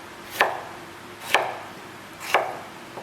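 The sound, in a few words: knife slicing potato sections into fries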